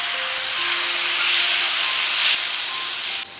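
Water poured into a hot pan while making egg tadka: a loud, continuous steaming hiss that holds steady, then drops off abruptly near the end.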